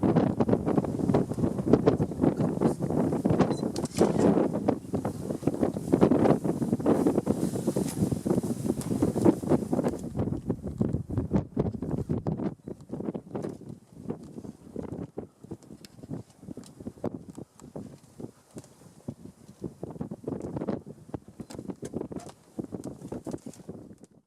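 Loud, steady wind buffeting a microphone on open Masai Mara grassland beside a safari jeep, a continuous roar that eases somewhat in the second half, with no talk.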